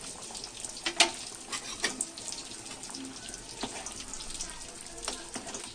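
Fish frying in a pan for a Maharashtrian machhi fry, a steady close sizzle with scattered crackles and occasional sharp pops and spits.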